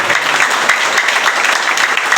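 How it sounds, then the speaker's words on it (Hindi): Steady applause from an audience at the eighth foundation day event of an anti-corruption group in Badhalganj, Gorakhpur, dense clapping sustained evenly throughout. "तालियां तो बजनी चाहिए।"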